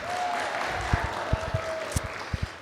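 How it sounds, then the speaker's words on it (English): A small gathering at a podcast event claps for Eleonora, who helped with her brother: a soft, steady patter of applause with a few louder, distinct nearby claps and a faint tonal hum underneath. "can we give a big round of applause to Eleonora for helping with her brother?"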